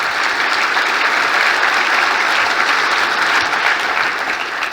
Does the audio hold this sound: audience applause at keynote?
yes